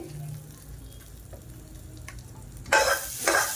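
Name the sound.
tempering poured into peanut chutney, sizzling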